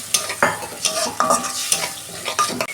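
Tomatoes sautéed in a pan with a little water, a spatula scraping and stirring in quick strokes over a sizzle, close and fairly loud, no talking.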